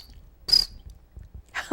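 A man's mouth imitates a cricket chirp: one bright, high, sharp chirp near the middle, with a faint short one just before it and breathy vocal sounds at the end.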